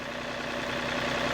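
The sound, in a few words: hydrostatic drive whining on log skidder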